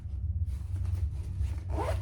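A zipper on the inside pocket of a handmade unisex crossbody bag is pulled in a short, close, raspy run, ending in a quicker final tug. No one speaks.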